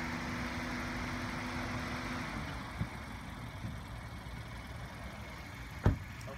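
A Honda Accord's engine idles steadily, a low continuous rumble with a couple of small knocks partway through and a sharper click near the end.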